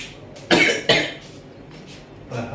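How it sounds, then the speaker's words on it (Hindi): Two quick, harsh coughs close to the microphone, followed by softer breathy sounds. "खांसी बहुत आ रही है।"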